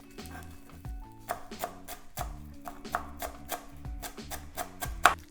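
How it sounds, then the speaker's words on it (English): A knife chops through a bundle of herb leaves on a cutting board for tabbouli, quick uneven thuds repeating steadily for several seconds, close up and with no talking. "just push them back under your bundle and keep chopping"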